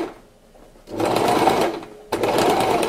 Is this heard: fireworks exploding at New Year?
no